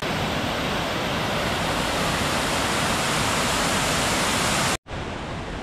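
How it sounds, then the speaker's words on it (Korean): Sampokpo waterfall in the rocky Sogeumgang valley of Odaesan roars nearby as a loud, steady rush of falling water, unbroken apart from a brief dropout near the end. "저희는 삼폭포에 도착했습니다."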